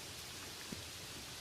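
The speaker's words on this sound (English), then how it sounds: "The rain traced invisible paths down the glass." Soft, steady rain falling on window glass, a faint and even hiss of drops with no voices.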